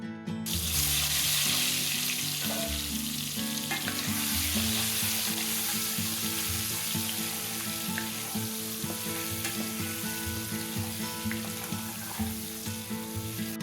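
Chili powder and turmeric sizzle in hot oil for an egg curry, a steady close frying hiss with faint stirring and scraping throughout and no speech.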